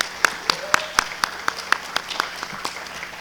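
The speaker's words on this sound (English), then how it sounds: "please help me in joining to give them a round of applause" A small audience at a New Orleans history lecture on coffee gives a round of applause for the series sponsors; a few sparse, distinct claps ring out in an irregular rhythm, fairly close and with a low hum behind.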